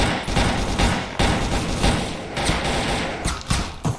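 Dense, continuous gunfire fills a Soviet-Afghan war video game battle, with rapid overlapping shots and bursts from close range and louder cracks near the end, and no talking.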